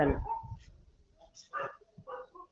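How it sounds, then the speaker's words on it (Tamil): A dog barks and yelps in a few short, scattered bursts at moderate distance, mixed with faint voices and background noise. "ஏதோ நாய் கத்துதுங்க"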